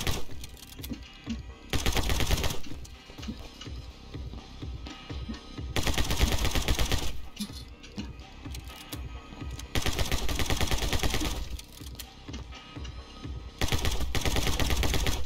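Rifle gunfire in the video game My Friend Pedro, loud rapid bursts of shots in several long volleys separated by short quieter gaps, close and dominant with no talking.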